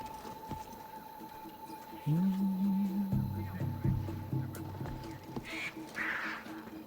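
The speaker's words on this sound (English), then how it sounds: "Shh, bird, you're so loud." A loud bird in Assassin's Creed Odyssey gives harsh, duck-like calls that run for several seconds beside steady game background noise, while someone talks partly over them.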